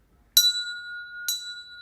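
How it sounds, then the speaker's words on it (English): Two bright metallic rings of a bell, the second about a second after the first, each leaving a long clear ringing tone that lingers in a quiet room. "I think it's the bell. It's ringing."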